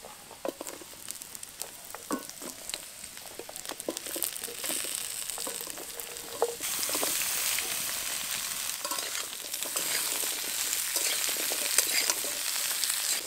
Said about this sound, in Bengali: এবার এই সবজিগুলো কিছুক্ষণ ভাজা ভাজা হওয়া পর্যন্ত নেড়ে নেব